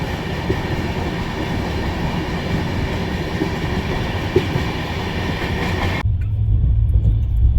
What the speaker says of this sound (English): the train has caught speed